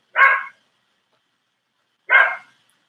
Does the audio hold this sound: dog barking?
yes